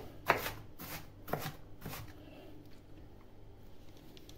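Several quick knife cuts chop an onion finely on a board, three crisp strokes about half a second apart, followed by quiet.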